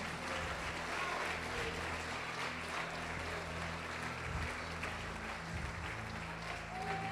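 A church congregation applauds in steady, dense clapping that fills the room evenly from start to finish, with a voice faintly mixed in.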